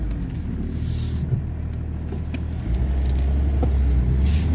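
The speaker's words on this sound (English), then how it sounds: "Alright, we're just driving around here." A 1996 BMW E36 325TD turbo diesel car driving, heard from inside as a steady low engine and road rumble that deepens slightly midway, with no talking.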